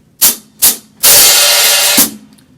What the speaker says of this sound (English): And then my hi-hat, I'll play with my right hand.